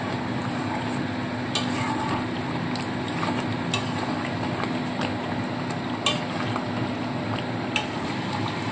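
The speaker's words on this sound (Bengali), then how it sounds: "তো ফ্রেশ ক্রিমটা দিয়ে খুব ভালোভাবে মিশিয়ে নেব।" Fresh cream is stirred into a pot of mutton korma, a close, continuous wet scraping with a spoon clinking against the pot every second or so.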